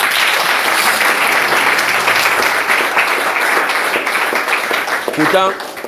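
A church congregation clapping loudly and continuously, fading slightly near the end as a voice briefly cuts in.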